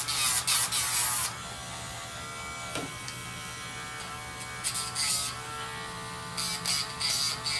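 Dremel rotary tool grinding down a terrier's nails during grooming, a steady close electric buzz that runs the whole time, with brief louder whirring bursts at the start and near the end.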